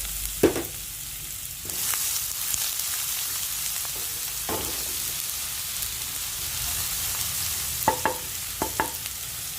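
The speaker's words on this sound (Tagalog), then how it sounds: "Sunod ko na ang sibuyas." Sliced onions fry in a pan with browned ingredients for a liver and quail egg dish, giving a continuous soft sizzle broken by several sharp clinks and scrapes of a utensil stirring against the pan.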